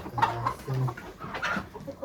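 Chickens cluck close by, a quick string of short, throaty clucks packed into about two seconds, clear and alone.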